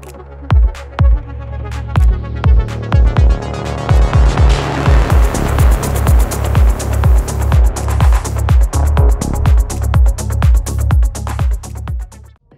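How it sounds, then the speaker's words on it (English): An electronic track playing kick, sub bass, roller, shaker, snares and percussion together in a studio. It starts sparse with booming kicks, then fills out into a loud, driving, evenly pulsing groove. "So if we now put the kick, the sub bass, the roller, the shaker, the snares, and this percussion together"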